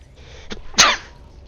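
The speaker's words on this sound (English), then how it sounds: "I'm gonna sneeze." A single sharp human sneeze bursts out loudly near the end, preceded by a brief faint intake of breath, with no talking around it.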